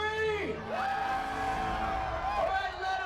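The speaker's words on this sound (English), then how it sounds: "I want the loudest FanCon scream you can do" A crowd at a fan convention screams and whoops together, a loud sustained roar of many voices with individual yells rising and sliding above it.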